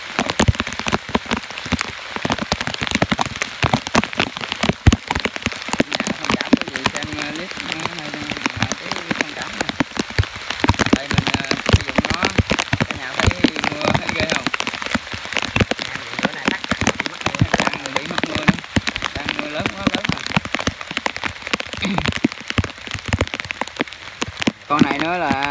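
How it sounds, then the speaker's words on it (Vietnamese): Heavy rain falls during a storm on a river trip to check snake traps, a dense, loud, continuous patter on surfaces with faint voices underneath. "Quá trời mưa rồi"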